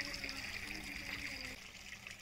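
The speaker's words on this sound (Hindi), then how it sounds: "पानी खाली बह रहा है" Water flows steadily through an irrigation channel in a hill village, a faint continuous trickle and babble heard alone at low level.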